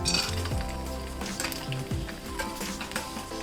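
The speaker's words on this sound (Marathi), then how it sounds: "तेल थोडं गरम झालं का एक तळून बघायचा." Fasting sandge, a puffing popcorn-like snack, frying in a little hot oil, giving a close, continuous sizzle with occasional clinks of a utensil against the pan and no voices.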